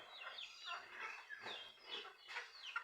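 Chickens hanging around a backyard pen give soft, repeated clucks and short chirping calls, faint and close, with quiet gaps between them.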